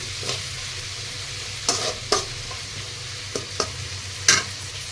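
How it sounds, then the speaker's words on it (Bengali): Sliced onions sprinkled with a little salt fry in a pan for a prawn and pointed gourd curry, a steady close sizzle broken by a few sharp spatula scrapes and taps, with no voices. "পেঁয়াজটা খুব তাড়াতাড়ি গলে যাবে বা সুন্দরভাবে ভাজা হয়ে যাবে"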